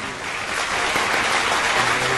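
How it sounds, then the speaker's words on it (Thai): Thunderous applause from a studio audience on a Thai motorbike radio show, a thick, steady roar of many clapping hands heard alone. "เสียงปรบมือเกลียวกราว"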